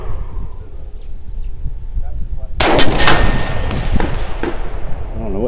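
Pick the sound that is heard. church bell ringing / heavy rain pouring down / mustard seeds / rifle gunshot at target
rifle gunshot at target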